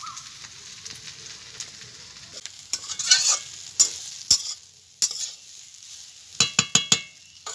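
Ingredients sizzle softly in a pan while a utensil stirs and scrapes, with several sharp clinks and knocks coming in bursts near the middle and the end.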